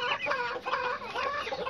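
Giant Brahma chickens clucking close by, a run of repeated throaty clucks and short calls in an uneven rhythm, loud and clear with no talking.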